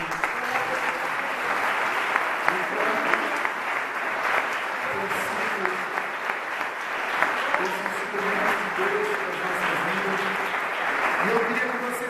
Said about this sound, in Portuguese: eu queria que a igreja aplaudisse em primeiro lugar a vida dos nossos pastores